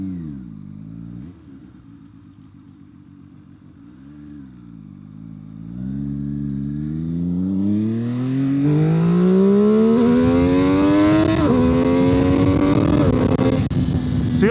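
A V4 motorcycle engine revs hard under heavy throttle, pitch climbing steadily as it accelerates, loud and close with a rising growl and no talk.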